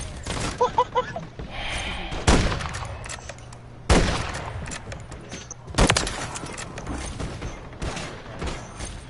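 Gunfire in Call of Duty: Warzone, bursts of shots and sharp reports over mechanical clatter, spread across the clip with excited players talking over the action.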